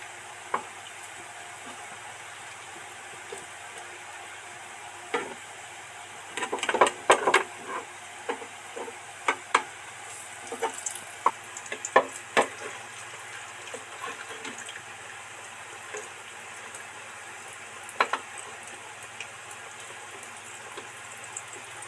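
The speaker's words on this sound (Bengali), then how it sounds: "বড়াগুলো তো মানে লো ফ্লেমে ডিপ ফ্রাই করে আস্তে আস্তে ভেজে নিলাম" Centella leaf pakoras deep frying in oil on a low flame, a soft steady bubbling sizzle punctuated by scattered crackles and occasional clinks of a spatula turning them.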